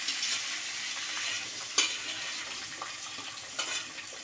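Sliced ridge gourd and onions frying together in hot oil for a lentil curry, giving a loud, continuous close sizzle broken by a few sharp scrapes and knocks of a spatula stirring the pan.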